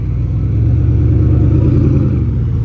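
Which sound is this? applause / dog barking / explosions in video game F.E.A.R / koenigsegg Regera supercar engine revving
koenigsegg Regera supercar engine revving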